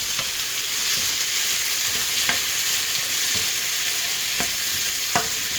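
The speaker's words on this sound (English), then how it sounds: "Once I saute the tomatoes, I'll add the green seasoning to it." Tomatoes sauté in a pan for corned beef and cabbage, giving a steady hissing sizzle broken by occasional light scrapes and taps from stirring.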